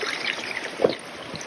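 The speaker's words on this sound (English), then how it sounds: "There's almost too much water for the tube." Water gushes from a tube on a rain-swollen homestead stream, a steady close rushing and trickling wash with no voices.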